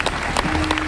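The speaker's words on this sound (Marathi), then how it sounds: "टाळ्या वाजवते डॉक्टर" A crowd of listeners at a devotional kirtan gathering clapping together, a dense, steady burst of close applause filling the short moment.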